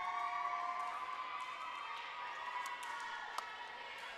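Crowd murmur and scattered cheering fill a high school gym before a varsity volleyball match, a steady moderate wash of voices with a few brief sharp accents, one near the end.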